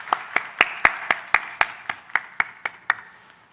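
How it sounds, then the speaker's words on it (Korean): Slow, steady claps from a church congregation, about a dozen evenly spaced sharp hits that fade toward the end, with no voices. "박수 올려드리겠습니다."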